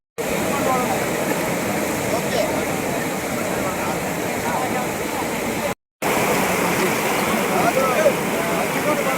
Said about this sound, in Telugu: నీళ్ళు నీళ్ళు